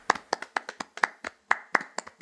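A few people clapping in a room, sharp, separate hand claps at an uneven quick pace, close and fairly dry, with no talk over them.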